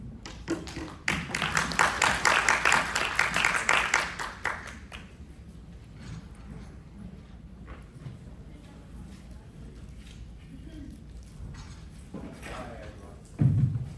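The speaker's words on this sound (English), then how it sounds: "let's give him applause for Yunlin" Audience applause at a talk on emergency medical services in Yunlin County, Taiwan: a dense burst of clapping swells for about four seconds, then fades into a quiet room with faint murmurs and a voice near the end.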